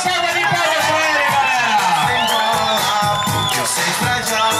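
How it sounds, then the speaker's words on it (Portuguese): Crowd at a surprise birthday celebration cheering, whooping and shouting in a loud, dense hubbub, with children's voices and excited calls layered throughout. "Uma salva de palmas pra ele"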